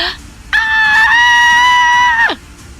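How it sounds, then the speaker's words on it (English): A banshee's scream in a fantasy tabletop role-playing game, a loud, sustained shrill wail with a steady harmonic tone lasting nearly two seconds, then cutting off with a brief falling tail. "Banshee scream."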